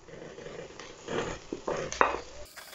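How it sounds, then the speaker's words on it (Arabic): Spoon stirring meat and caramelizing onions in butter in a pot, soft scraping and clinking against the metal with faint sizzling, a few brief close stirs. "أقلب كله مع بعضه بالشكل ده"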